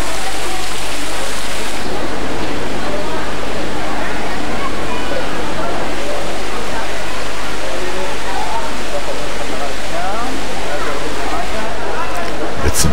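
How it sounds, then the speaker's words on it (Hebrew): Indoor waterfalls in a greenhouse garden give off a loud, continuous broadband rush of falling water that fills the space evenly and without pause. "הכל מלא מפלי מים."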